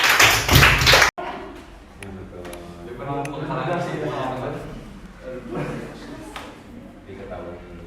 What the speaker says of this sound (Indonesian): tepuk tangan untuk lomba 2